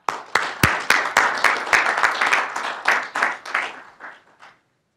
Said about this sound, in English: One more round of applause for our 20 years of service members.